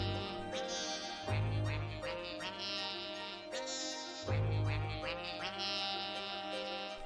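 Cartoonish duck quacks in a rhythm video game, repeated in a bouncy beat over bright music with heavy bass thumps, loud and continuous.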